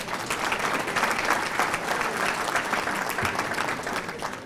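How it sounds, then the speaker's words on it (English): A banquet crowd at an adult bowling association dinner applauds, a dense and sustained roar of clapping from many people throughout, fairly loud and steady with no speech on top. "But let's give her a nice round of applause, Kathleen Mays."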